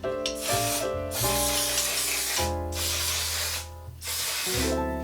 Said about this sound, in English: I'm gonna use the One Size Until Dawn mattifying setting spray.